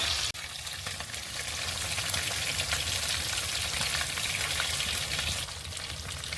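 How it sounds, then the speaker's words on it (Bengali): Chicken satay sizzling in a frying pan after being turned, a steady close crackle of hot oil with a sharp knock near the start, no talking. "এই দিকটাও ভালো করে ভেজে নেব"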